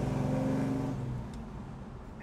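A 1968 Chevrolet Chevelle 454 big-block V8 drones loudly while driving, then its pitch eases and fades after about a second into a quieter road rumble.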